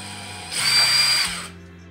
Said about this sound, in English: I'm gonna drill a little hole with my drill in each of those